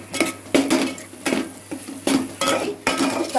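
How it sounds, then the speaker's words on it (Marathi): Homemade masala with ginger-garlic paste is sautéed in a pan. A spatula scrapes and knocks against the metal in loud, close, rhythmic bursts over a low sizzle. "मसाला पण चांगला परतून घेते"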